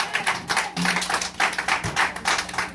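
A church congregation claps in steady rhythmic bursts, a dense, fairly close round of applause that pulses evenly throughout with no talk over it.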